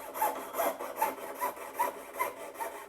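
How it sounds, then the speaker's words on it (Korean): A master craftsman cuts a butterfly pattern from mother-of-pearl shell for lacquerware inlay, using a fine needle-like saw. About seven soft, even rasping strokes repeat in a steady rhythm, quiet and close. "명인이 바늘 같은 톱으로 나비 문양을 자른다."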